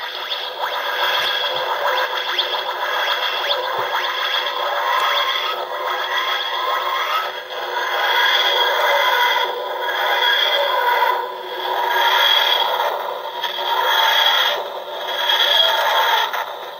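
A 2nd Doctor TARDIS sound effect from The Abominable Snowman plays as a grinding, wheezing drone that pulses in slow rhythmic surges, fairly loud and without any voices over it.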